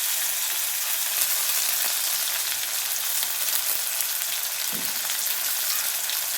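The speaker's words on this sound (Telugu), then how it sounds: "ఇప్పుడు మనం ఈ టమాటోస్ ఇందులో వేసుకొని బాగా కలుపుదాం." Tomatoes fry and get stirred in a pot of munagaku (drumstick leaf) sambar, giving a steady, close sizzle that runs without a break, with a faint scrape near the end.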